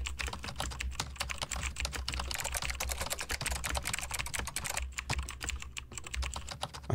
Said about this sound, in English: that's some typing ASMR, isn't it? Keyboard ASMR.